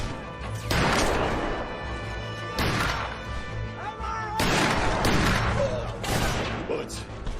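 Gunfire and bullets striking near a rooftop in a battle scene, heavy crashing impacts in four big bursts with rumbling between, loud and close.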